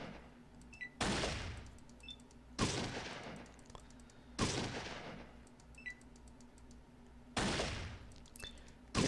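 Four separate loud gunshot blasts from the Fallout 2 video game, each a sharp crack with a decaying tail, spaced a few seconds apart over quiet background with small clicking interface sounds between them.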